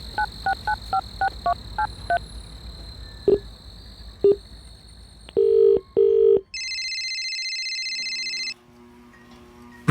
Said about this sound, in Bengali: স্টেশনের কাছে পৌঁছে রাজীব প্রীতমের নাম্বারে ফোন করল